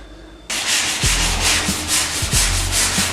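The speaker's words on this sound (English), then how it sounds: "so we're in the sanding stage now." A power sander starts up and runs steadily, its abrasive hiss rising and falling in strokes as it works across a wooden desk surface.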